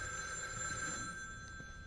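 A telephone rings in the horror video game The Evil Within 2, a steady electronic bell tone with sustained high harmonics, moderately quiet against faint background ambience, with no talking over it.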